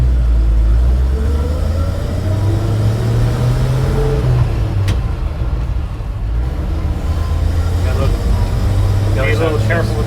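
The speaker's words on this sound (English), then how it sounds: "listen to her hum and purr. It's like a sewing machine, these old inline 6s" A 1956 Chevrolet 3100 truck's old inline six hums steadily and smoothly while driving, a low even drone with a slight pitch rise, as people talk inside the cab.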